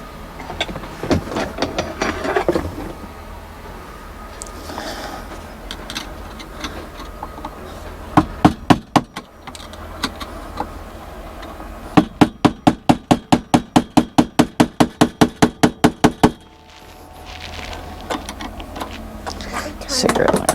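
Repeated metal hammer strikes on an RV wheel's beauty ring, loud sharp impacts with a few scattered blows then a fast, steady run of about fifteen evenly spaced hits, with people talking in between.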